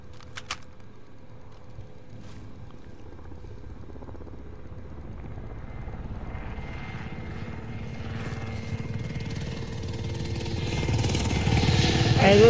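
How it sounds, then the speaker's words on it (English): A helicopter in a shooter video game thrums with a pulsing rotor drone that grows steadily louder and closer, its throb building toward the end amid other game noises. "Hey, this fucking chopper right here is right under us."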